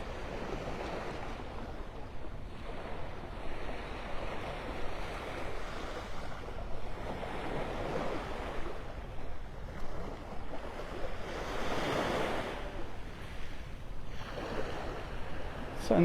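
Ocean surf on a beach in North Naples, Florida washes in steady broad swells, with a louder rolling wave near the middle and light wind noise throughout.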